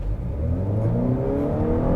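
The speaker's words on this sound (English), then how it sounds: "let's put the vehicle into a sport mode here, and the gas engine kicks on" The gas engine of a 2022 Honda Accord Touring Hybrid starts running in sport mode, a loud, close, low engine hum that climbs steadily in pitch as the car accelerates, with no talking.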